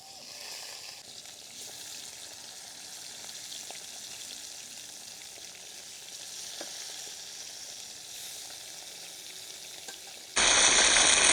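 Tilapia fish frying in a pan, a steady close sizzle of hot oil running without pause, with a louder burst of crackling at the very end.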